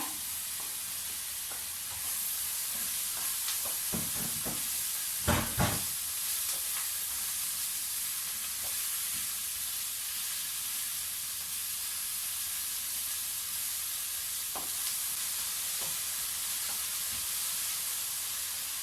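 Green, red and yellow bell peppers fry in a pan after onions, giving a steady sizzle throughout with a few louder stirring scrapes near the start, close and without voices.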